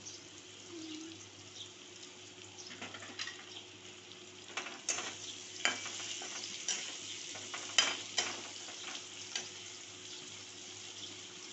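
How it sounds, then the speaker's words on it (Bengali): Chopped tomatoes fry in a dal tempering alongside a paneer, potato and pointed gourd curry, giving a steady low sizzle with scattered sharper scrapes and stirring clatter in the middle, no one talking. "এখন টমেটো কুচিগুলো দিয়ে আমি এটাকে ভালো করে ভেজে নেব"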